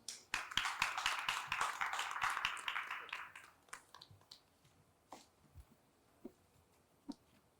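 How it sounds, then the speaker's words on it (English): A small audience at a cybersecurity conference award ceremony gives a brief burst of close clapping that quickly drops to scattered, isolated claps in a quiet room. "Huge round of applause for him, please."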